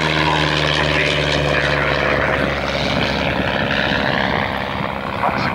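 A Miles Whitney Straight propeller aeroplane, a small plywood-covered light aircraft, drones steadily at close range, its loud engine and propeller hum holding constant throughout with no talk.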